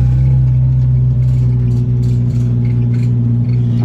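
A supercharged Peugeot 405 Mi16 4x4 rally car idles with a steady, deep droning hum heard from close by, the pitch holding nearly constant with only slight fluctuations and no voices.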